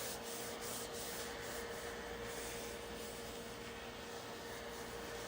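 Firm hand rubbing across a piece of cardstock while crafting, giving a continuous dry scratchy friction sound, close and steady throughout, with no talking.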